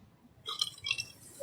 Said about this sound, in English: I can like do crazy burps.